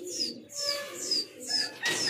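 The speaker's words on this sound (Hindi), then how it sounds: "दोस्तों, खुल गए हैं कबूतर।" Freshly released racing pigeons on a still day give short, bright chirps in a repeating pattern about every half second over a soft low murmur, with no talking.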